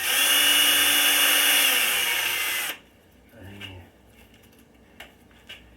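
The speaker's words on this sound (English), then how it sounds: "Let's get the drill. And pilot hold it." A power drill bores a pilot hole into a model aircraft fuselage for a Bristol Scout build, a loud steady whine for almost three seconds that stops abruptly, followed by quieter clicks and handling noises.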